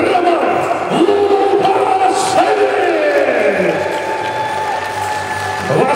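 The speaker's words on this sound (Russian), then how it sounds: "Ваши самые громкие аплодисменты." A crowd applauds and cheers at a heavyweight fighting tournament, a loud, sustained wash of clapping through a large hall, while an announcer talks over a public address system.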